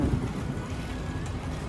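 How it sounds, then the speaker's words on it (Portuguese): Low, steady wind rumble buffets a phone microphone outdoors while cycling, a continuous blustery roar with no speech, filling the short stretch at moderate level. "acho que tá meio ventando aqui. Tá ventando aqui também"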